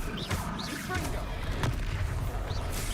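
Fiery blast spell bursts in Hogwarts Legacy combat, dense booming explosions layered over continuous game music and battle noise, loud and sustained throughout.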